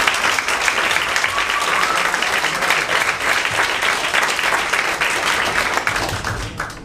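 An audience at a book presentation claps in a dense, steady round of applause, loud and close, that keeps up throughout and thins slightly at the very end.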